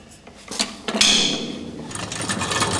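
Antique washing machine with a floating dolly agitator and rack-and-pinion gearing, running nearby with clanking, rattling metallic knocks and a rough grinding churn that builds and continues unevenly.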